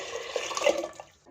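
Six cups of water pour into a clay pot for achari dal, a steady gushing splash rising briefly in the middle before tapering off near the end.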